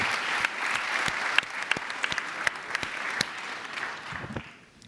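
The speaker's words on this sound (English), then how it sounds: "Big applause." Applause from a conference audience at a policy forum, steady clapping with some sharp individual claps standing out, fading away near the end.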